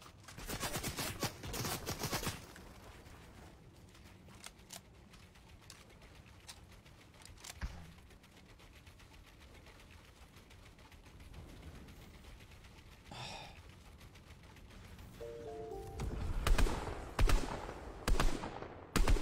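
Gunfire in an online shooter video game: bursts of rapid shots open the clip, then scattered single cracks over a quieter stretch, and a loud cluster of shots closes it, with no talking.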